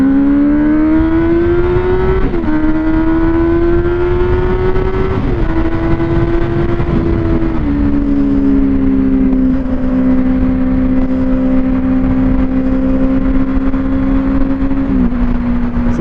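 A 2017 Benelli TNT 600 motorcycle revs hard in first gear, its loud, close engine note climbing steadily, dipping briefly a few times before climbing again, with no voices.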